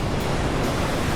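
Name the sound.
Atlantic Ocean waves at Rockaway Beach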